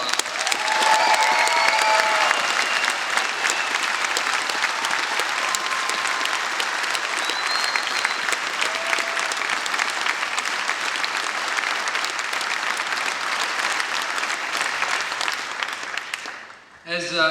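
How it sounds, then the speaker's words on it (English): An audience at a campus rally for Ron Paul gives veterans and service members a long, steady round of applause that fills the room for about sixteen seconds, then fades out. "Let's give them another round of applause."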